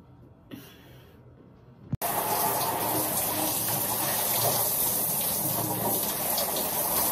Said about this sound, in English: I'm finna get in the shower right now